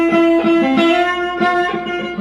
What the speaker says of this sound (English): 2 guitar parts come in that are in harmony with each other,